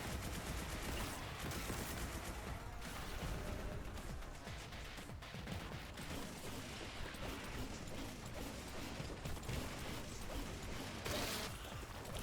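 Kraken-round gunfire from a boltgun in Warhammer 40,000: Boltgun, a dense, continuous barrage of loud shots and crashing impacts filling the whole stretch without pause.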